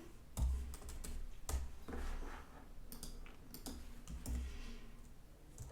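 Rapid clicking of keys on a computer keyboard, with uneven bursts of typing and a few heavier keystrokes, close and steady with no talking.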